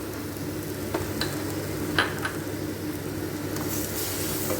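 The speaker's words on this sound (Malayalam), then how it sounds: "ചെറിയ 2 തക്കാളിയും ഒരു 1/2 ടീസ്പൂൺ കാശ്മീരി ചില്ലി പൗഡറും കൂടി അരച്ച് വെച്ചതാണ് ആ മിക്സിയിലേക്ക് ഇട്ട് കൊടുക്കാം." A paste of ground tomato and Kashmiri chilli powder sizzles in a hot pan, a dense, steady frying hiss with a few sharp pops and spoon knocks near the middle, close up and without speech.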